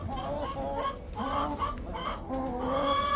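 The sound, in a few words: chickens clucking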